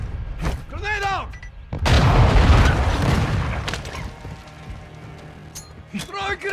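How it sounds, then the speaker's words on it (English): A grenade detonates in a military shooter video game: a loud broad blast with a rumbling tail, followed by a quieter stretch of game sounds. Voice lines play before and after it. "Grenade out!"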